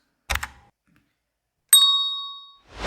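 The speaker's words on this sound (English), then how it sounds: "Hit the notification bell for more updates." A bright notification-bell ding rings out once, clear and loud, with a long ringing tail that fades over about a second; a short unrelated burst comes just before it and noise rises at the end.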